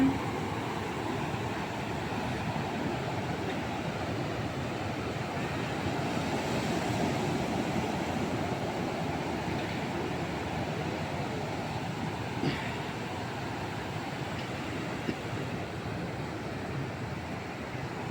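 Ocean waves roll in as a continuous, broad rushing wash that holds steady with only slight swells, moderately loud and unbroken by talk.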